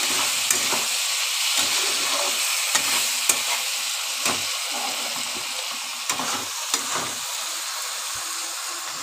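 Prawns and cabbage being sautéed in a pan, with a steady hiss of frying and repeated scraping stir strokes close by, and no voices.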